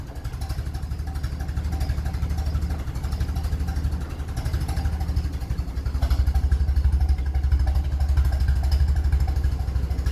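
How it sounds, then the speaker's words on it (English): A 1957 Ferguson 35 tractor with a TVO engine runs close by in a steady rhythmic chug, the beat growing louder and heavier partway through as the engine is given a brief rev. "Let's give it a quick rev to make sure she's charging."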